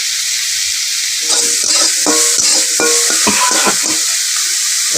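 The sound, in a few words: prawns frying in a wok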